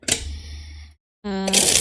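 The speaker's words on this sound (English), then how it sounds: "let me do a riffle shuffle here" Riffle shuffle of a tarot card deck: a short, close, crisp fluttering burst of cards, then a pause before a voice speaks.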